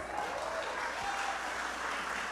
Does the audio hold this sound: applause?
yes